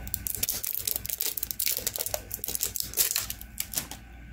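Plastic covering on an oil filter crinkles and crackles in quick, close, irregular bursts throughout, with no talking.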